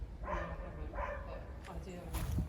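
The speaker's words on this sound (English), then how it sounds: "There's a dog" A dog barks twice in quick succession, fairly near, beside the gates of a property, with people talking over and around the barks.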